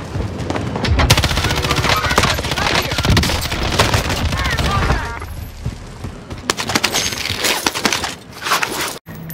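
Rapid bursts of automatic gunfire and single shots crackle loudly through a shooter video game match, dense for the first half then thinning into scattered pops, with players talking over the action.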